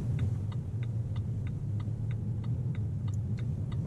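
A car's turn-signal indicator ticks in a steady, even rhythm about every third of a second during a driving lesson, light clicks over a low, constant engine and road rumble inside the cabin.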